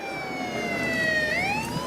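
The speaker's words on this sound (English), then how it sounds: "I want to know who fired the siren." A wailing siren glides down in pitch and then sweeps back up, loud and continuous, with no voices.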